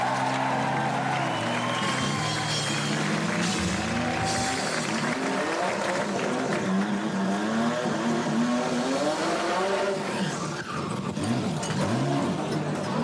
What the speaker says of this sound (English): No, it's just a V6 Buick with an extra turbocharger.